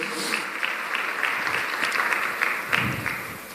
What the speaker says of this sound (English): Another big round of applause for Ibrahim.